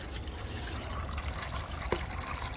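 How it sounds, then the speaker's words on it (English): Motor oil drains from the open oil pan of a 2014 GMC Sierra during an oil change, a steady close liquid trickle and spatter with a brief louder drip near the end. "dripping all the oil out. Make sure you just catch it."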